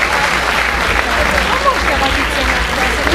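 Loud audience applause at an evening event honouring a senator, a dense continuous roar of clapping from a large crowd with voices mixed in underneath.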